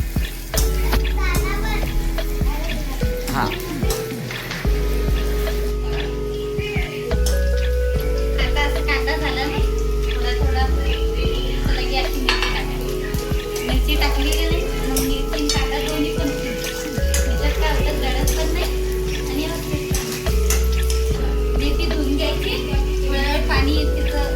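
Chopped onion frying in a pan for a Maharashtrian egg chutney, a steady close sizzle running continuously beneath ongoing talk, with a voice and occasional stirring clatter.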